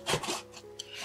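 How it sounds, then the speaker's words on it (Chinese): A knife cuts pork belly into thick slices on a wooden cutting board, giving a few quick, close scraping chops and rubs at moderate loudness with no talk. "放在案板上，将肉切成厚片"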